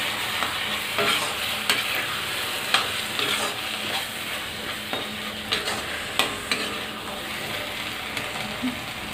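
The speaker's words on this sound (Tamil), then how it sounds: "அதெல்லாம் நல்லா பிரட்டி விட்டுக்கலாம்." Prawn masala for a prawn gravy is stirred in a pan with a utensil, soft sizzling underneath and repeated sharp scrapes and taps against the pan bottom at irregular intervals, close and without talk.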